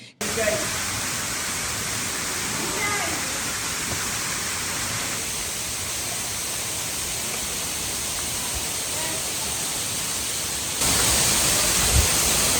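Bagbiyani waterfall on the Napittachhora trail roars as a steady, dense, close rush of water, unbroken from start to end, with a voice faintly audible under the noise.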